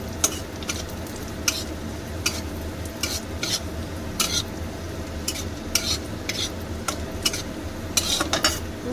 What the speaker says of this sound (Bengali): কাজু কিশমিশটা আমার ভাজা হয়ে গেছে, এটাকে আমি তুলে নেব।